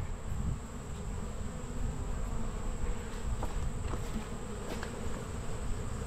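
Honey bees buzz continuously around active hives on an afternoon, a dense steady hum with individual insects passing close now and then.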